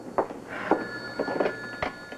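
An older telephone rings indoors in several repeated bursts, loud and close, with a steady tone running under the rings and no talking.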